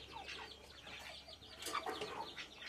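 Hens and their chicks clucking softly nearby, a few short calls with faint peeps and light rustling, quiet and without talk.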